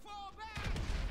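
A booming explosion goes off in Grand Theft Auto, a heavy low rumble that swells midway and lasts to the end. Tonal game sounds come just before it, and a voice seems to be partly under it.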